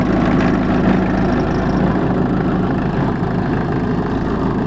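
A 1981 Volkswagen Rabbit Caddy pickup with a roughly 50-horsepower engine idles steadily and loudly up close, a constant low rumble that holds even throughout, with no voices.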